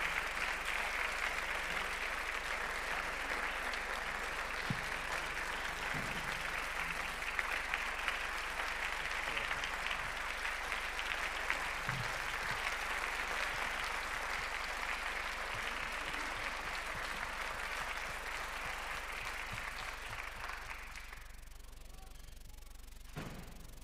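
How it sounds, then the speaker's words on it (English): A church homecoming crowd claps in long, sustained applause for about twenty seconds, a dense even roar of hands that cuts off sharply near the end. "can I have one more big round of applause for Pastor Everett"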